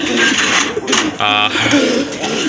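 A pair of pigeons coo briefly and softly up close, low murmuring calls under someone talking, with a short mechanical buzz partway through.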